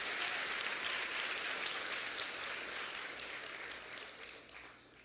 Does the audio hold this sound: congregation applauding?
yes